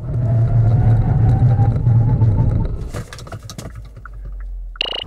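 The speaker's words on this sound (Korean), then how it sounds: "그럼 이번에는 셀토스의 제동 성능도 한번 알아볼까요?" A 2019 Kia Seltos 1.6T 4WD during a braking test, with a loud, steady engine and road roar that drops away abruptly near the end and then settles into a quieter rumble.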